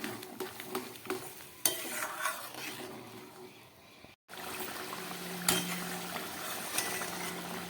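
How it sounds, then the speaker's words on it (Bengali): Fish curry with large potato chunks and added hot water simmers in a pan, giving a soft, continuous bubbling crackle with occasional light utensil clinks. A brief dead gap falls midway. "তরকারিটা ফুটছে"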